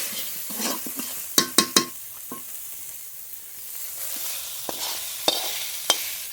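Chicken kosha tipped over a spiced pointed gourd masala in a pan, a soft sizzle broken by several sharp metal clinks and scrapes of a spoon against the pan, clustered early then spaced out.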